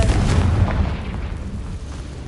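Confringo spell explosion in Hogwarts Legacy, a loud close boom with crackling debris that rumbles and slowly decays over about two seconds.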